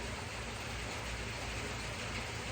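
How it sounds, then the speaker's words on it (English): Steady rain falls outdoors, a dense even hiss that holds without a break and stays constant and moderately loud throughout, with no voices. "that rain putting y'all to sleep if it's sounding through on that camera good"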